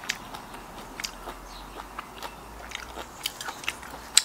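Someone eats fermented fish with crisp fresh homegrown vegetables, making close crunchy bites and chewing clicks at an irregular pace, fairly quiet and with no talking.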